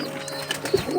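Pakistani Kamakar pigeons, a matched male and female pair, give a short low coo close by, with soft rustling around it and no talk.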